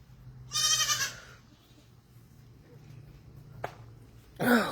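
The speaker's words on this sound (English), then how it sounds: "my baby goat is just hollering for no reason today" Baby goat bleating loudly: two loud, wavering cries separated by a few seconds of near quiet, the second cut off at the end, close to the listener with a faint low hum underneath.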